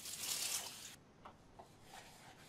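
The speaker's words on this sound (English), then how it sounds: "Wash dishes." In a video game, dishes are washed under a running tap, a loud hiss of water for about a second that cuts off sharply, then a few soft drips and clinks in quiet.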